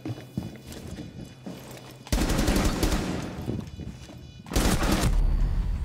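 Gunfire in Rainbow Six Siege during a team deathmatch bomb round at Hereford Base: two loud, rapid automatic bursts, the first lasting about two seconds and the second starting a little later, with faint footsteps and scuffles before them.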